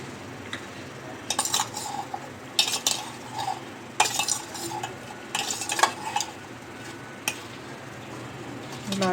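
A spoon scraping and clinking in a bowl while cucumber pickle (dosakaya pachadi) is mixed, uneven close stirring taps over a quiet background, with no voices.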